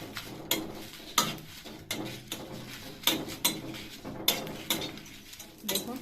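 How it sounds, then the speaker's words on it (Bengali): Bay leaves dry-roasting in a pan are stirred and tossed, giving soft scrapes and sharp intermittent clinks against the pan, quiet and close, with no talking. "তো এখানে তেজপাতাগুলো আমি দিয়ে দেব।"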